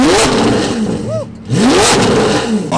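A straight-piped Lamborghini Aventador V12 revs hard inside a tunnel, rising howls with echoing reflections, a brief cut near the middle, then another sharp climbing rev, loud and close.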